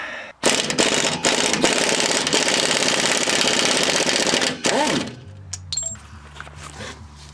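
An impact gun undoes the E12 bolts on the lower suspension arm of a BMW E90 3 Series: a loud, continuous, close hammering rattle for about four seconds, then it stops abruptly, leaving faint workshop clatter.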